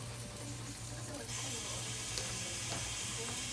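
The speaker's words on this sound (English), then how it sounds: "Let's add some more water here." Water running from a tap into a deep cooking pot for jumbo pasta shells, a steady rush that grows louder partway through, over a low kitchen hum.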